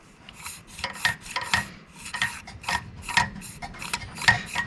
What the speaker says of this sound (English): A little bit of this 2000 grit sandpaper.